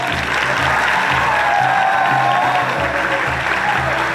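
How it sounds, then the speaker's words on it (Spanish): Audience applause for dancers at a festival, a dense, steady wash of clapping holding at an even, loud level throughout, with music faintly underneath. "Un aplauso para ellos"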